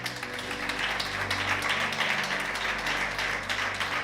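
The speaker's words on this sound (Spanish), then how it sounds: "Denle un aplauso a Jesús" A church congregation claps steadily for several seconds, a dense patter of applause filling the space with a low hum underneath.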